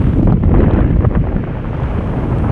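Loud, steady wind roars and buffets the microphone during a paragliding flight over Annecy, France, a dense rumbling rush with no talk.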